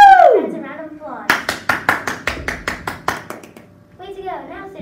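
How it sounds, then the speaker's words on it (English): Students clapping for the school fundraiser winners, a short run of crisp, evenly spaced claps up close, with a voice just before and after. "That's a round of applause."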